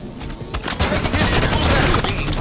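Video game gunfire, a railgun shot amid a dense volley of weapon fire, loud and continuous with sharp bursts and booms throughout.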